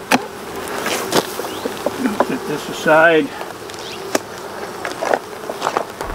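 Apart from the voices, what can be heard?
honey bees buzzing in a brood box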